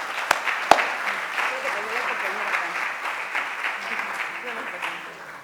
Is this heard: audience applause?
yes